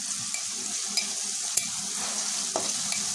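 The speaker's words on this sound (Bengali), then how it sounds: "এখানে আমি রসুন বাটা দিয়ে দিলাম এক চামচ দিয়ে এগুলোকে একটু ভেজে নিব" Garlic paste frying in oil, a constant close hiss with a few light spoon taps as it is stirred.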